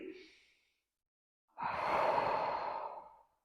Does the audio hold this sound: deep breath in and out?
yes